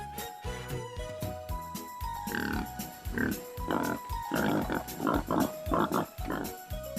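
Repeated pig grunts and snorts come in short bursts close by, over a soft tinkling musical background.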